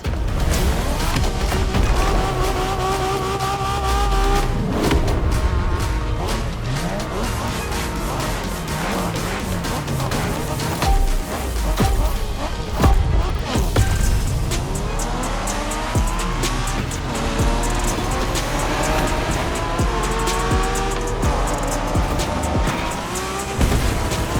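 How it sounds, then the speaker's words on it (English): Racing cars roar continuously with tire squeal in The Crew Motorfest during Japanese street racing, loud and dense throughout, layered with music-like tonal lines and no talk. "We're going for some proper Japanese street racing"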